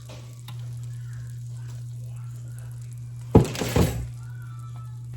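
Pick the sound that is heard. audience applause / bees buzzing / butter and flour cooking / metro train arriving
butter and flour cooking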